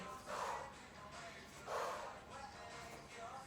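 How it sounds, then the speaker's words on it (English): Two forceful breaths during a full-body barre workout, each a short airy exhale, spaced about a second apart and faint against a quiet room. "I like to encourage loud breathing."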